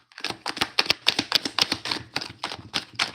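Playing cards shuffled by hand, a quick run of crisp riffling bursts, close and fairly quiet, with no talking.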